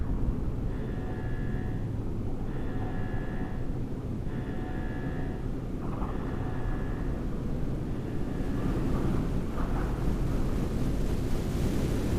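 A rocket's boosters ignite and it lifts off in the video game Deliver Us The Moon. A heavy broadband roar sustains throughout, with repeated tonal beeps over the first half and the rumble swelling toward the end.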